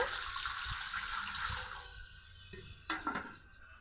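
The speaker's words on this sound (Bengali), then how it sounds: "ওই বাটিটা তো ছোট, এটাতে জল দিয়ে দিব।" Water runs steadily into a large bowl for raw mango pickle, a continuous close pour that thins out before a few brief splashes and knocks at the end.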